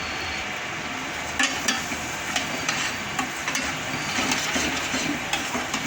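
Masala paste with roasted gram flour cooking in a pan for a capsicum dish, soft frying hiss with scattered scraping stirs and light clinks of a utensil against the pan, close and steady without talk.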